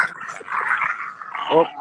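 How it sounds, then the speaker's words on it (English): Puppies scuffle at close range, giving brief growls and whimpering yelps that rise and fall, with a burst of snarling near the end. "now my puppies are killing each other"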